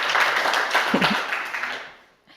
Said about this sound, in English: have a little clap here